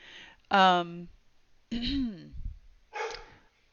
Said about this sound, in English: oh my lord, my dog.